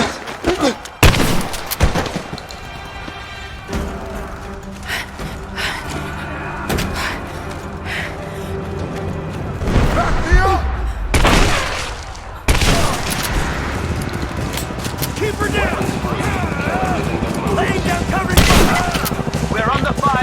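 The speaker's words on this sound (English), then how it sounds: "We're under fire at the edge of the village" Bursts of gunfire crackle through a tense action scene in Rise of the Tomb Raider, with repeated volleys, heavy thumps and booms spread across the stretch alongside voices talking.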